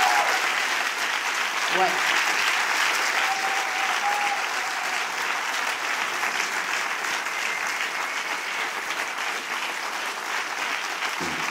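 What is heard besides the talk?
comedy show audience applause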